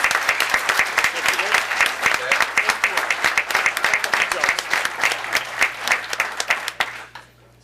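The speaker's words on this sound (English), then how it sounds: "Ladies and gentlemen, give a round of applause for Coach Carden and Coach Eagles." An audience at a town board meeting in Irondequoit gives a round of applause for two basketball coaches: dense, close clapping with crisp individual claps, tapering off and fading out over the final second.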